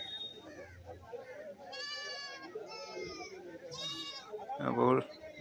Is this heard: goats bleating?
yes